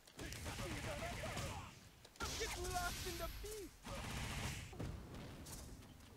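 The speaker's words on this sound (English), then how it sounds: "DJ rarely gets the opportunity to use EX Machine Gun Blow on a fully cornered opponent" In Ultra Street Fighter IV, Dee Jay's EX Machine Gun Blow unleashes rapid bursts of dense, crackling punch impacts layered with loud arcade effects, broken by brief gaps as the flurries repeat.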